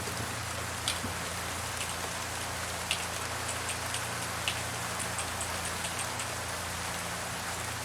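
Steady rainfall in the American Truck Simulator video game, a dense even hiss of drops on surfaces with a few faint taps, constant and fairly quiet throughout, no voices.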